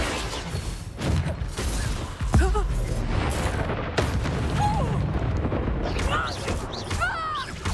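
Booming explosions from the Confringo spell in the Hogwarts Legacy video game, several heavy blasts layered over a busy battle soundscape with shouted voices.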